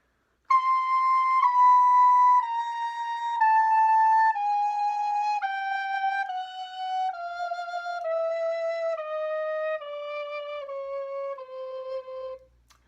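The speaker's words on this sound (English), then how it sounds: "So if you're doing middle C down to low C, chromatically it would sound something like this." A recorder plays a slow chromatic scale descending from middle C to low C, each note held about a second in a steady stepwise fall, clear and solo with no talking.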